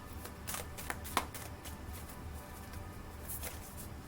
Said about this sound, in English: Shuffle up, they said.